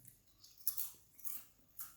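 Grape-flavored chips crunch in quick, close bites, three or four brittle snaps spaced through a short, quiet moment of eating.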